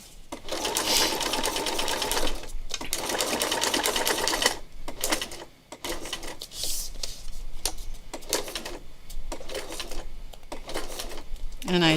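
Close, loud sewing machine stitching in rapid bursts that start and stop with brief pauses, under a person talking.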